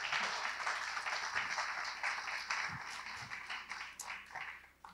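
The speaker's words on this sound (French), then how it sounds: "Je pense qu'on peut applaudir nos intervenants." An audience applauds the speakers at a talk on intellectual disability and art, a moderate patter of clapping that is fairly distant and gradually thins out over several seconds.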